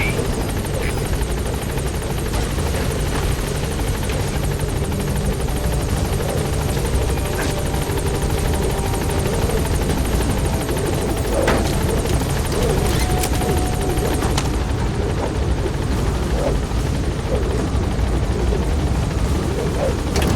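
The helicopter Pequod in Metal Gear Solid V beats with a loud, constant rotor thump and engine whine throughout, a few faint clanks scattered within.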